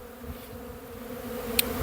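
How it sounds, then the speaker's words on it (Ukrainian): Honey bees buzz steadily at a busy apiary in spring as they carry pollen, a dense, continuous drone with a brief sharp click near the end. "Всі бджоли носяться з пилком"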